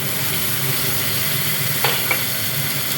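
Onion, garlic and tomato frying in oil in a pan with a bay leaf, giving a steady close sizzle marked by two quick scraping stirs near the end, with no voices.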